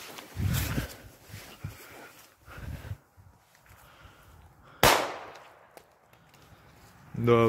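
A small poskok firecracker bursts beside a Samsung Galaxy S10 phone in one sharp, loud crack midway, with murmured voices, shuffling before it and a short rising yelp near the end.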